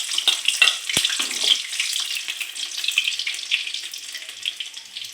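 Garlic hits hot oil in a home kitchen pan while chilli paneer is being made, a bright, crackling sizzle that starts sharply and then settles into a steady hiss.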